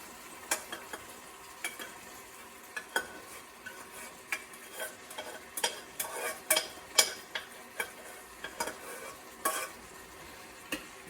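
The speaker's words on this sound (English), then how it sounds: "now we're going to go ahead and just add our white rice to the Gallo Pinto" White rice is stirred into reduced beans for gallo pinto, close spoon scrapes and clinks against the pan in an uneven rhythm over a faint background sizzle, no talking.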